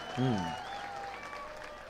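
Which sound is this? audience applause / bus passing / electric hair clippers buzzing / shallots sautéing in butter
audience applause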